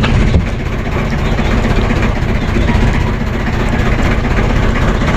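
A heavy engine runs steadily and loudly nearby, a dense, unbroken low rumble lasting the whole stretch without pauses or changes in pitch.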